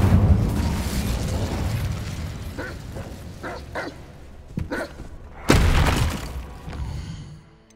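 Hogwarts Legacy's Incendio fire spell goes off amid combat, with a string of short bursts followed by one loud, sharp blast that fades into a crackling tail.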